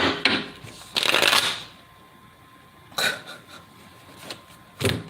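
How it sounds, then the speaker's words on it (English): Tarot cards are shuffled in several quick riffling bursts, the longest early on and shorter ones later, close and crisp against a quiet room. "Let me finish shuffling."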